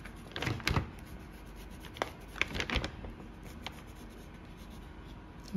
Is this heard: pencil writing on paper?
yes